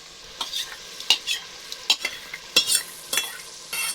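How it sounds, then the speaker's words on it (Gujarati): Yogurt going into a sizzling paneer gravy in a pan, with a steady fry hiss broken by sharp scraping and stirring strokes at irregular intervals, close and clear, no talk. "હવે આપણે આમાં નાખી દેવાનું છે આ દહીં"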